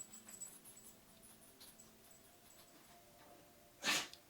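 After a quiet stretch, a single short, sharp sneeze bursts out near the end.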